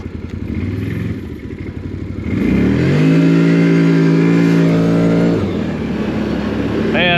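A 2025 CFMOTO Cforce 800 Touring ATV engine revs up hard and holds a loud, steady, rising drone for a few seconds before easing off, with a voice audible briefly near the start.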